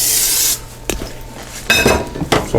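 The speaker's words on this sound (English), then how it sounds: "You could either brush it with olive oil or spray it with olive oil spray" Olive oil spray hisses onto a whole chicken in a kitchen, with one sustained spritz followed by a few shorter bursts and light handling noises between them.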